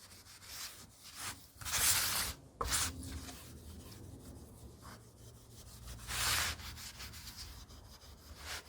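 Sandpaper rubbing over scratches on a varnished wooden jewelry box, a soft close scratchy sanding with repeated back-and-forth strokes swelling and fading, no voices.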